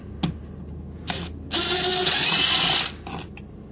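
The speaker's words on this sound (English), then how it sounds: "Now I'm going to use my drill to back this switch out." A drill backs a screw out of a wall light switch at a double switch box, a steady whirring burst of about one and a half seconds, close and fairly loud, set between brief clicks and handling noises.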